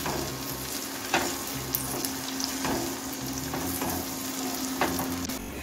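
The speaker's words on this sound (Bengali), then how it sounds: "এখন আমি আদা রসুনটা কষিয়ে নেব যতক্ষণ আদা রসুনের কাঁচা ভাবটা কেটে যাচ্ছে।" Ginger and garlic paste sautés in a pan for dhaba-style chicken fry masala, giving a loud, continuous frying hiss with a few sharp stirring clicks scattered throughout.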